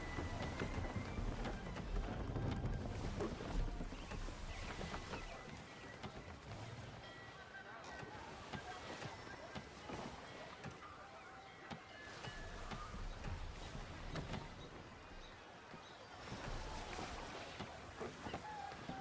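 Wind and creaking sea ambience aboard a sailing ship in Assassin's Creed III during a sudden rogue gust, a steady broad rush with rolling surges under occasional talk.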